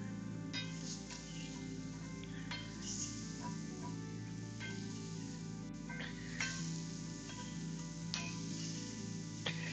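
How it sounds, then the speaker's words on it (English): Mushrooms fry in a pan with a steady, close sizzle that continues throughout, broken by occasional light clinks and ticks from stirring, with no talk. "A good way to tell if your mushrooms are done is if the sizzling"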